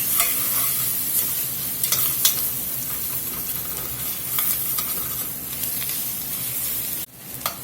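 Butter and vegetables, including carrots, sizzle and fry in a soup pot, a steady close hiss with occasional stirring scrapes before a brief break near the end.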